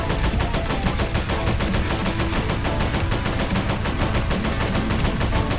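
Rapid, continuous gunfire from a basic tank battle video game, a dense, steady stream of loud shots running without pause for several seconds with no talk.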